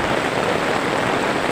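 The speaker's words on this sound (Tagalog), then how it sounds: "Kita nyo yan guys oh, maulan." Heavy rain pours steadily outdoors during a walk home, a dense, loud, unbroken hiss of falling water close all around.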